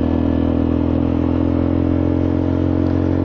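A Honda Forza 300 scooter engine with a scored cylinder runs steadily while riding, a dense, constant drone with mechanical clatter and rushing wind noise, loud and unbroken throughout.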